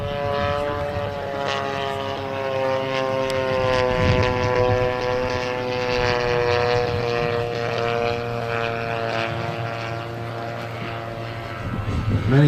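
A World War II P-51 Mustang fighter's propeller engine drones loud and steady with a strong harmonic growl, sustained nearby throughout and swelling slightly at the end.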